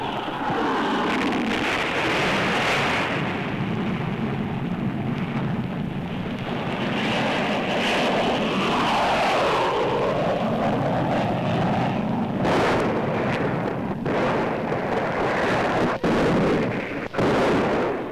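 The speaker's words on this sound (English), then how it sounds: "The jet fighters strafe enemy positions and provide cover for the Army's armored units" F-86 jet fighters roaring low over a military exercise, a sustained loud rushing jet noise with rumbling blasts and sharp cracks toward the end, suggesting strafing fire amid the engine drone.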